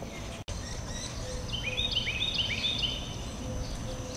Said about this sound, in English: you may hear the birds chirping and crowing this morning